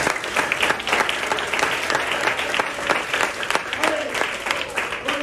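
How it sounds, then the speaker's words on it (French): Applause from an audience at an official school event, steady and lively clapping from many hands at moderate distance, with a few voices mixed in beneath it. "vous allez applaudir pour vous"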